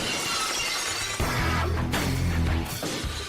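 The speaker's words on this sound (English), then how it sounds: "Glass shattering." Loud glass shattering crash over a steady, dense bed of music, with the smash bursting in and debris-like noise following, as in a wrestling entrance theme cue; no voices.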